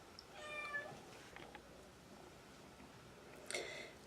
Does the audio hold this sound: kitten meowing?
yes